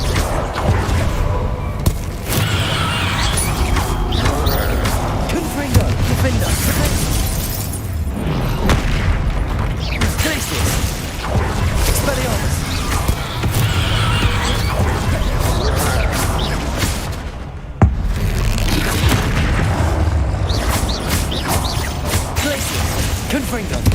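Loud, repeated Confringo blasting-spell explosions in the Hogwarts Legacy video game, dense booms and crashes with whooshes filling the whole stretch, spell shouts heard over the combat.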